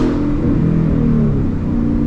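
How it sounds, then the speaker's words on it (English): An Infiniti G37 engine revs loudly nearby, a dense, throaty roar that holds steady and rumbles on without a break, with no voices over it. "G37 is loud, bro."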